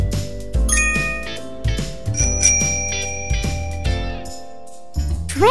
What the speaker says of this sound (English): Bicycle.